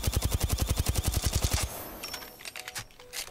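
Volta SMG firing in Apex Legends, a rapid, loud burst of evenly spaced shots lasting about a second and a half, followed by quieter in-game clatter and effects.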